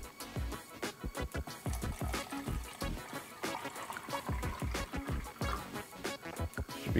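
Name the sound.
water being poured into a mug for tea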